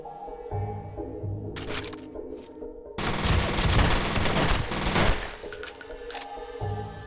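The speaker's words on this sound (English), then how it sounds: "I love the dual pistols, this works." Rapid gunfire from dual pistols in the shooter video game F.E.A.R., a dense burst of sharp cracks in the middle over background game sounds and music.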